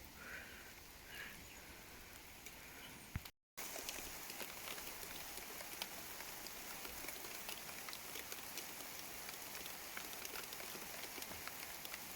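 Steady rain falls on a farmstead, a dense even hiss of drops that holds for the whole stretch, broken only by a brief cut to silence.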